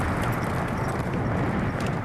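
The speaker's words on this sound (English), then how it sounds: "Race horses love to run." Thoroughbred race horse hooves running, a loud, dense rumble of galloping hoofbeats close by over steady broadband noise.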